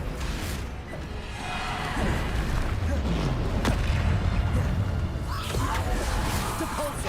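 Heavy magical slam from the Descendo spell hurling an enemy to the ground in Hogwarts Legacy, mixed with booming, crashing combat effects and a dense, loud wash of spell noise throughout.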